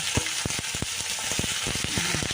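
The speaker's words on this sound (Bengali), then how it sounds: "এই দেখো সব কটা টমেটোই উল্টে দেবো একটু ভাজা হয়ে গেছে" Green tomatoes frying in a pan make a dense, close sizzle, with a rapid series of soft spatula taps and pops over a couple of seconds.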